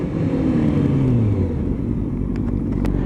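A Ferrari sports car drives past at a car meet, its engine a loud, steady low rumble with a gliding pitch that falls and then settles, heard close up with no talk.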